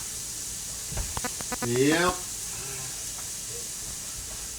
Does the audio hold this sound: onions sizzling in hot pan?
yes